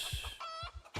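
Short clucks from a chicken in the survival video game Project Zomboid, a quick series of low clucking notes with a brief higher call, heard alone.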